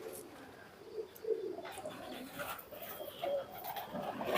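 Soft cooing of an Indian high-flying pigeon in repeated low murmurs, fairly close, with faint background noise and an occasional brief sound underneath.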